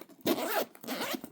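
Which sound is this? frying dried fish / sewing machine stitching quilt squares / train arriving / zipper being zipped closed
zipper being zipped closed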